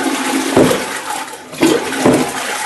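Water is tossed onto oil-stained ground where a tank once stood, making three loud, close splashing bursts separated by short gaps, with no speech.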